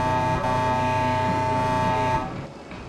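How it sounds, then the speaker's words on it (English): Loud, sustained truck air horn blaring steadily from the rig in the space trucking game Star Trucker, dense and continuous for about two seconds before cutting back to a lower rumble. "Do the iconic gesture for you to honk the horn."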